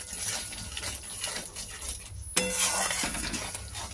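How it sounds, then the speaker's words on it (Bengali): Ground spices sizzling and being stirred in a pan with beaten sour yogurt for a potato and cauliflower curry, a steady crackling fry with a sudden louder hiss and occasional clinks of the spatula. "মশলাটা কষা হচ্ছে, এর মধ্যে একটুখানি টক দই দেবো।"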